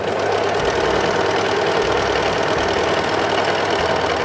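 A Brother 3534DT overlock sewing machine runs continuously while stitching fabric, a loud, steady mechanical whir and rapid needle chatter with no pauses.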